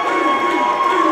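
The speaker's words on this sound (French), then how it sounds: "Et la foule qui scande" A large crowd chants in unison at a professional wrestling match between Alex Shelley and Petey Williams. The chant is loud, sustained and close, with many voices blending into a continuous roar.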